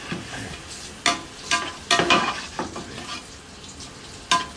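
Garlic and onion fry in a pot with a steady sizzle. A utensil scrapes and clinks against the pot in irregular strokes over the hiss.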